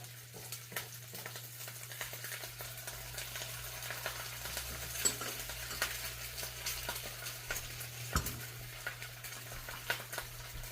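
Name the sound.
eggs frying in oil in a pan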